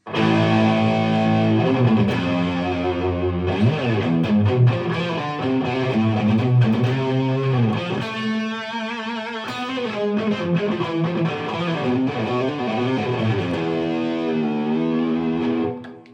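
Distorted electric guitar lead melody through delay, reverb and a Boss CE booster preamp pedal, sustained notes trailing into delay repeats and reverb wash, loud and continuous throughout.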